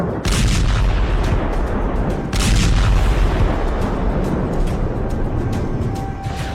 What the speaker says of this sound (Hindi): खुर्रम शहर मिसाइल से निकले क्लस्टर बम जमीन पर क्या कोहराम मचाते हैं